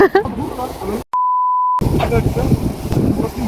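A single steady censor beep lasting under a second cuts sharply into ongoing talk, with speech continuing right after it.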